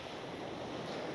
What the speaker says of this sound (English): You might notice that there are a little bit of extra waves, like these.